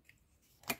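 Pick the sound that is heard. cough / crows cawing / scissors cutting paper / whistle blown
scissors cutting paper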